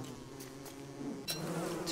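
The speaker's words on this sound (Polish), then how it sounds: "chodź, pójdziemy po te pszczoły." Bees in a video game farm, a soft, low continuous buzzing hum that is fairly faint, with no talk over it.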